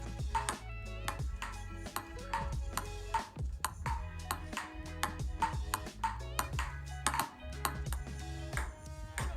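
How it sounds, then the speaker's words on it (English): Quick bright pings of a ping pong ball struck by paddles, repeating in a busy uneven rhythm over a low background drone. "After that, I added the sound that it makes when it hits the paddles."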